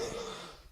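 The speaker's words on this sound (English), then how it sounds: "Excuse me, this fucking cough's insufferable." A single short, rough cough bursts out at close range, then fades quickly into quiet breath.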